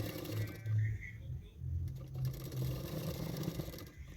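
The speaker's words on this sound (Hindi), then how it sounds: "तो मैंने मार्किंग करके उसके बाद सिलाई कर रही हूँ।" A sewing machine stitches cotton blouse fabric in short, uneven bursts of close mechanical whirring, with a person talking over it.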